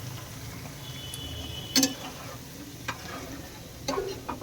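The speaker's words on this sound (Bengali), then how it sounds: "আমার তো তরকারি কষাতে আরম্ভ করব মশলা দিয়েছি" Spiced curry being stirred and fried in a pan, with a steady low sizzle and a few sharp scraping clinks of a spatula against the pan, close by and with no talk.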